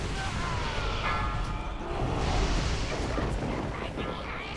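Spell explosions in a World of Warcraft Icecrown Citadel raid give a dense, sustained rumbling blast texture that swells in the middle, with the game's sound effects running continuously.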